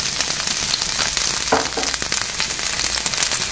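Chopped onion hits hot oil in a preheated cast iron skillet, giving a steady, loud crackling sizzle with brief spitting pops near the middle.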